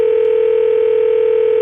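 A loud, steady telephone tone after a phone is hung up, a single unbroken hum held for over a second and a half before it cuts off abruptly.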